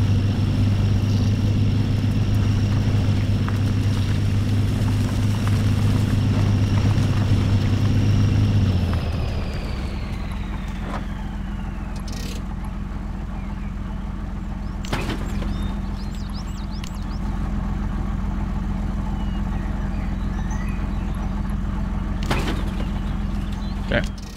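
A video-game truck engine drones steadily while the vehicle takes a downhill, then the revs drop and settle into a lower, steady rumble with occasional clicks and knocks.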